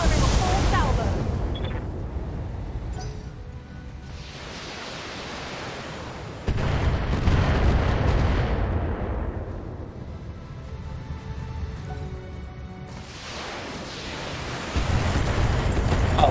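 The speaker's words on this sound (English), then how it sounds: "Firing a full salvo." A BattleTech mech lets off a full weapons salvo: heavy, roaring booms that swell and fade in waves, several loud surges close together, with crackling bursts and a deep rumble throughout.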